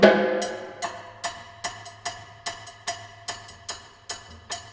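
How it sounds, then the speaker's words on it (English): A metallic cha-cha bell is struck in a steady, even pulse, about a dozen bright ringing hits after a louder opening strike, played alone. "playing what is called the cha-cha bell"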